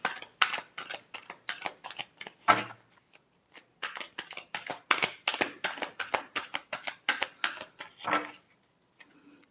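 Tarot cards shuffled by hand in quick, crisp riffling bursts, a long run of rapid flicks broken by two short pauses and a louder snap, close and clear with no talking.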